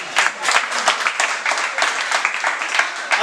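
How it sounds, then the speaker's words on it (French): An audience applauds at a white cane presentation ceremony, a steady patter of many hands clapping together, fairly close and continuous with no talk over it. "Si c'est bon, on applaudit également pour moi."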